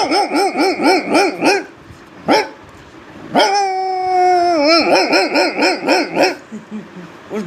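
A man imitates dogs with his voice, giving rhythmic barking yelps, a short yip, then a long drawn-out howl followed by more quick barks, loud and close with no other sound.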